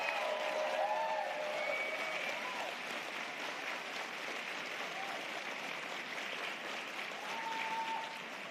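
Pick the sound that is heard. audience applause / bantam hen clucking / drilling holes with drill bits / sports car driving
audience applause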